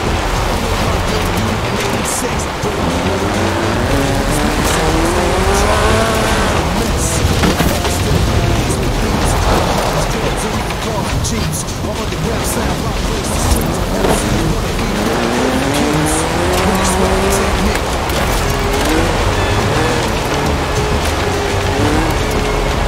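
A Lotus Sunbeam with a 2.2-litre slant four-cylinder engine races in the rain in Forza Horizon 4, its engine revving and shifting continuously over steady rainfall and road spray, while a narrator talks over it.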